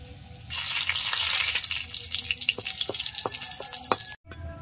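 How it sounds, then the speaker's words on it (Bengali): Dried red chillies frying in leftover fish oil, a loud, close sizzle that starts abruptly, runs with scattered crackles and utensil taps, then cuts off near the end. "এই তেলেই কয়েকটা শুকনো লঙ্কা ভেজে নেব।"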